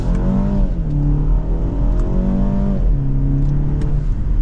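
A 2024 BMW X2 xDrive28i M-Sport with a turbo engine and dual-clutch gearbox pulls away and accelerates, engine tone climbing, dropping at each shift and rising again, loud from inside the cabin.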